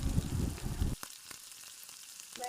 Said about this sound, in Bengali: এবার একে একে ভাজা চিংড়ি মাছগুলো দিয়ে দিতে হবে।